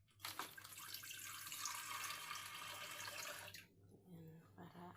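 Water pours steadily into a jar holding a layer of sand. The gush is a few seconds long, then it stops and soft trickles and handling noises follow at low level.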